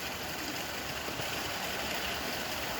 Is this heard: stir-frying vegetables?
no